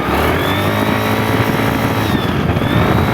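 A scooter engine revving loudly and steadily, tuned with 6-gram rollers, its rising and falling whine sustained close by with no talk over it.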